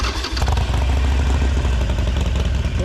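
A Harley-Davidson Sportster with a Bassani Road Rage 3 exhaust, already warm after about 40 minutes of riding, idles loud and close with a steady, lumpy rumble and some mechanical clatter.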